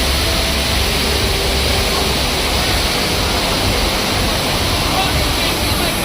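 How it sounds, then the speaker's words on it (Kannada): A decorative waterfall at a Las Vegas hotel entrance sends out a steady, loud broadband rush of falling water that stays constant and unbroken throughout. "ಹೋಟೆಲ್ ಎಂಟ್ರೆನ್ಸ್ ಅಲ್ಲೇ ಈ ಥರ ಒಂದು ಫಾಲ್ಸ್ ಇಟ್ಟು ಚೆನ್ನಾಗಿ ಬ್ಯೂಟಿಫುಲ್ ಆಗಿ ಇದು ಮಾಡಿದ್ದಾರೆ"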